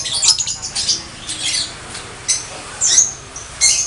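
Caged songbirds hanging in a bird keeper's room give short, bright squawks and chirps in scattered bursts, fairly close, with quiet gaps between calls.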